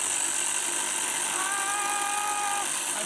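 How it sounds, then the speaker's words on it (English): A large Harbor Freight drill fitted with a gigantic bit bores holes into a concrete floor, giving a steady, loud grinding roar throughout, with a higher whine that rises and holds partway through. "we got a pretty massive drill here from Harbor Freight, and pretty gigantic bit as well"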